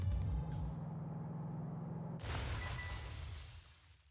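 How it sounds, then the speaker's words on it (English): Car crash in the game Ghost Trick: Phantom Detective: a heavy engine-like rumble cuts off, then a sharp shattering impact bursts out and decays over about two seconds. "Was that a car crashing?"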